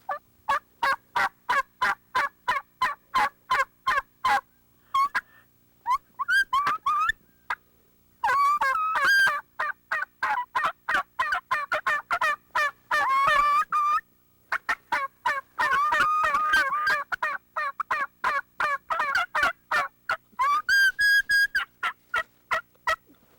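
Two people use mouth calls to imitate a turkey hen and her poult, trading rapid rhythmic yelps, clucks and high whistling peeps in close, clear bursts with short pauses between sequences.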